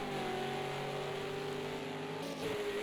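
A V8 Supercar engine in a racing video game revs up hard after a hairpin, its rising harmonic whine loud and continuous, then dipping briefly at a gear change near the end.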